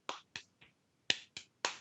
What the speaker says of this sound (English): He's smacking his thighs